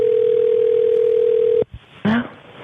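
A steady telephone dial tone hums on a recorded phone call line for about a second and a half, then cuts off with a click, followed by line noise and a short burst of voice.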